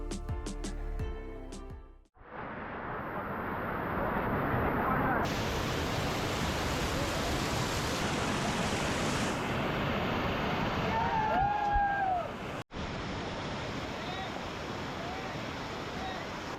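A loud, steady roar of a waterfall crashing down onto rocks, broadband and continuous, with two abrupt brief dropouts and a faint high voice-like tone near the end.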